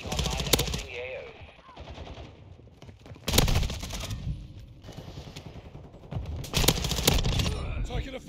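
Bursts of automatic gunfire in Call of Duty: Modern Warfare II, loud rapid SMG volleys in three separate clusters with quieter clatter and game chatter between them.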